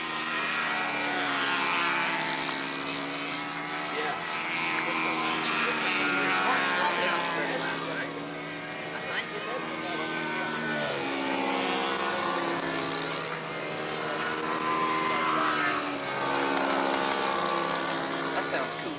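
A model airplane engine drones as the aircraft flies at a national model aviation meet, a steady buzzing whine whose pitch rises and falls as it passes, with people talking over it.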